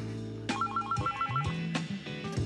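A telephone rings indoors in a scene from a TV drama: a clear electronic ringing pattern of repeating short warbling tones, fairly close and heard alone.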